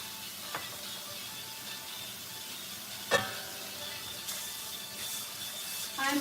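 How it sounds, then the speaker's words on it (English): Cooking pan being rinsed under a running tap: a steady hiss of flowing water close by, broken by a few sharp clinks and knocks of the pan. "I'm rinsing the cooking pan."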